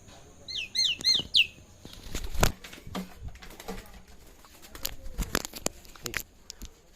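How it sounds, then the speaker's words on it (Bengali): A captive myna bird being grabbed by hand, giving a few sharp chirps at first, then flapping and struggling in close, loud bursts of wingbeats and rustling. "ধরে ফেলেছি পাখিটাকে দেখুন গাছ ধরে ফেলেছি"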